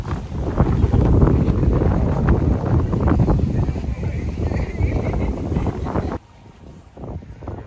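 Strong wind on Miyajima Island, Hiroshima, roars and buffets the microphone for about six seconds, then drops off abruptly to a quieter rumble.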